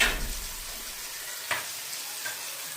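Spoon stirring black pepper, cumin and salt with liver and onions in a hot frying pan, soft sizzling with a few distinct scraping knocks, close and moderately quiet.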